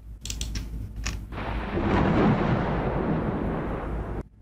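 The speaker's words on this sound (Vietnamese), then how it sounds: "Một tiếng sấm nổ vàng cả một vùng." A thunder clap sound effect: a couple of sharp cracks open it, then a loud, deep rumbling roar rolls on for about three seconds before cutting off.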